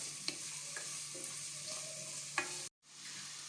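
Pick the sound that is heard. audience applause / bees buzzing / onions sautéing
onions sautéing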